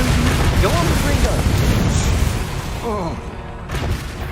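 Booming Confringo blasting-spell explosions in Hogwarts Legacy during combat, loud and rumbling with whooshing spell effects layered over continuous game noise.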